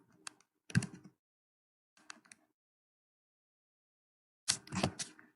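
Typing on a computer keyboard, three short bursts of rapid close key clicks separated by quiet pauses, the last burst the longest and loudest.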